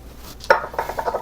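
Canadian rye whiskey, 1.5 ounces of Stampede, poured into a glass for an Old Fashioned, starting with a sharp clink of glass followed by a short run of soft, pulsing glugs up close.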